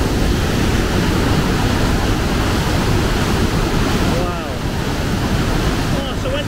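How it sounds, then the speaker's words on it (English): A large volume of water rushes through the barrage gates at Cardiff Bay, a loud, continuous roar close by with a faint chirp near the end. "How is there so much water coming from there then?"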